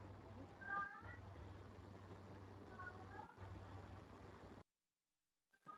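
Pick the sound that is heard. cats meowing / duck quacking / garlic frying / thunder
cats meowing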